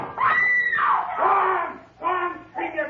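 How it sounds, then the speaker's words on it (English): A woman in a radio drama screams loudly and close, in several drawn-out, wavering shrieks with short breaks between them. "Go on, scream your guts out."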